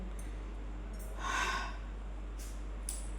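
One heavy, breathy exhale or snort from someone winded by hard work, faint and isolated against a quiet room, with a few soft rustles around it.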